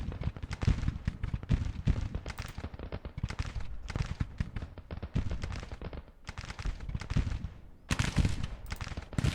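Dense rifle volleys crackle nonstop from Civil War infantry lines, Kentucky Colonels and Mississippi Rifles among them, in the strategy game Grand Tactician, overlapping shots rolling in loud, ragged waves with no pauses.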